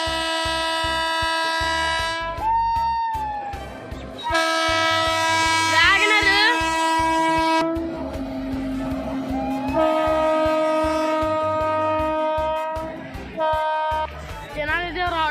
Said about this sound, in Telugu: చూసారా, ట్రైన్ వస్తుంది.